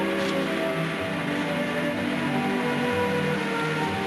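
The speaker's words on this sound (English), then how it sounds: "Starting to rain." Rain falling outdoors near a house, a steady, soft hiss of drops that stays even and fairly quiet throughout.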